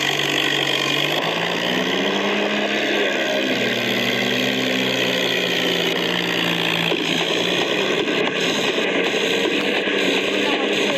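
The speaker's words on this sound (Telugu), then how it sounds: "ఇప్పుడైతే మనం జాన్ డియర్ ట్రాక్టర్" A John Deere tractor engine runs loud and close while climbing a slope, its steady drone rising and falling in pitch as it labours.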